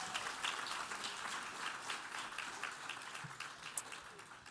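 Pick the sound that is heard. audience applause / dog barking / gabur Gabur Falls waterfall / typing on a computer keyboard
audience applause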